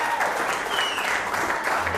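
A live audience claps in a dense, steady burst of applause throughout, with crowd noise and a few voices mixed in.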